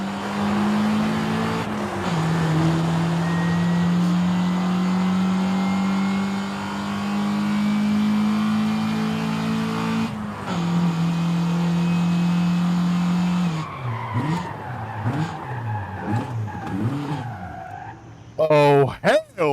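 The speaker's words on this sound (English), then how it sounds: "What kind of motor noise is that?" A racing video game car engine holds a loud, droning rev that rises and falls with a changing pitch, then breaks into skids and a voice talking over it near the end.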